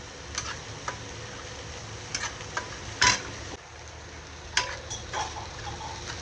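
Onion and coarsely crushed garlic fry in a pan, a steady low sizzle broken by sharp stirring clicks and a few scraping knocks, close and without talk.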